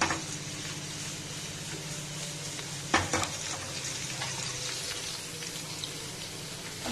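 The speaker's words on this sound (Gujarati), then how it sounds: "તેલ આપણું ગરમ થઈ ગયું છે। હવે તેની અંદર આપણે આ લસણ નાખી દઈએ।" Chopped garlic fries in hot oil with a steady crackling sizzle. A sharp clatter of stirring comes midway, and the frying continues close by with no one speaking.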